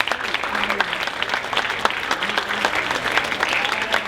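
An audience breaks into sustained applause, a thick, continuous clatter of many clapping hands with a few sharper claps standing out, steady and close for the whole stretch.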